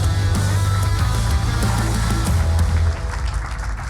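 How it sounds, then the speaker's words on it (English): An audience claps to welcome a startup founder onto the stage at a health tech pitch event, producing dense, continuous applause that thins out near the end. "I would like you to give them your support by huge applause"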